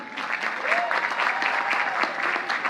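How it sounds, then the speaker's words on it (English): Loud, sustained clapping from a crowd at a college commencement, applauding musicians, dense and even, with a faint voice briefly rising over the applause. "I want all of you to give another round of applause"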